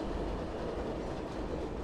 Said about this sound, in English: The N and W train runs along 31st Street in Astoria.